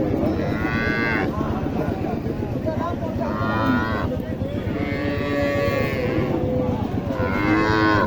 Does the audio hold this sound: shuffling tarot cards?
no